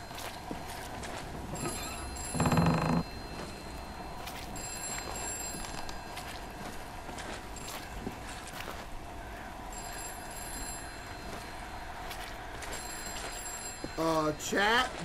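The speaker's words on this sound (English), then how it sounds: "I hear a phone ringing in this house." A telephone ringing inside a house in a horror video game, two short bursts of electronic trilling a few seconds apart over a constant ambient bed, with faint game noise between rings.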